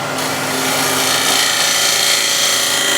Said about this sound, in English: And let's say I want to start beads from here, so I go straight in, almost closing the flute